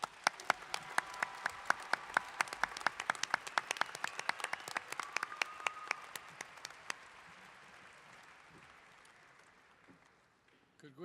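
An audience applauds graduates of the School of Education at a university midyear commencement ceremony, steady clapping for about seven seconds before thinning out and fading toward silence.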